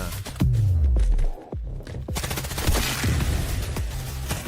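Heavy gunfire in the Delta Force video game: dense, sustained bursts of automatic fire with sharp repeated cracks, loud and close, with a deep thud near the start and continuous shooting throughout.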